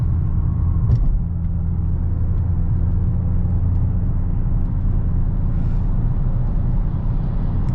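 A 2022 Dodge Challenger Hellcat on worn tires, just out of 3.5 months in storage, cruises steadily. Its engine and road noise form a constant low cabin rumble, with no one speaking.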